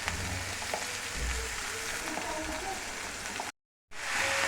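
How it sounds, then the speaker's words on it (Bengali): Chopped leafy greens frying in a pan, a steady close crackling sizzle that runs for about three and a half seconds, cuts out briefly and then resumes. "এবার কিছুটা ভাজা হচ্ছে"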